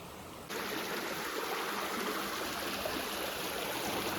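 A hillside stream flowing freely after debris blocking it has been cleared on a hike, a steady, close rushing of water that starts abruptly and continues evenly without talk.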